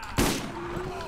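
Gunfire in the video game Borderlands: a single loud burst with a sharp onset, followed by a sustained ringing tone and low game background, with no talk over it.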